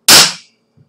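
A single sharp air rifle shot in Garry's Mod cracks out loud and close, with a bright hissing tail that dies away within half a second, leaving near silence.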